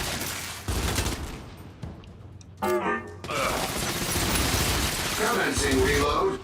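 Gunfire at targets in Gears of War, with bursts of rapid automatic shots, a short break and a mechanical clatter, followed by sustained firing under game voices.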